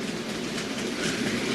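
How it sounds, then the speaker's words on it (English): An OO gauge model steam locomotive, a tender-driven 8F, pulls a train around a layout loop, giving a steady close rolling rumble with soft clickety-clack from the wheels over the rail joints, running continuously with no talk. "the old tender-driven 8F will get round and pull this train fine on this loop"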